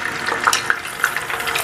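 Tofu pieces fry in hot oil, crackling and sizzling up close with a few sharp pops over a steady bubbling hiss.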